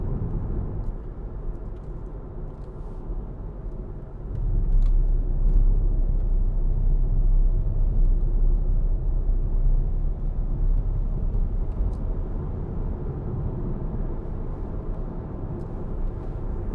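2013 Hyundai ix35 2.0 CRDi 16v diesel 4WD accelerating on a road, a steady low cabin rumble that swells and thickens partway through and holds as road and engine noise build.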